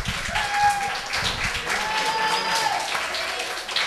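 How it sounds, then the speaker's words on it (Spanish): Applause from an audience at the UD Roteña under-10 youth football team's 2013/14 season closing ceremony, a steady burst of clapping filling the few seconds with some speech over it. "Un fuerte aplauso."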